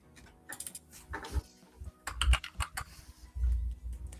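Computer keyboard typing in a quiet room, a run of quick, uneven key clicks with brief pauses and a few heavier thuds, close and fairly faint, with no voices.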